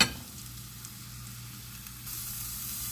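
Asparagus spears cooking in a hot pan give off a steady, soft sizzle that holds even throughout and brightens a little toward the end, with no voices.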